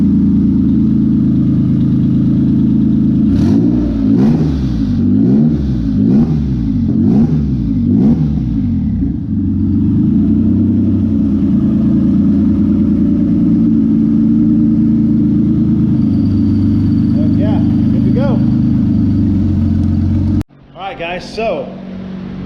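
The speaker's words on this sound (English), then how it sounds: "Find my button here. All right. Yep, running on all 6." Twin-turbo Honda J35 V6 in a sand car starting up, with several sharp revs early on before it settles into a steady, loud, lumpy idle, then a brief dropout and a burst of clatter at the end.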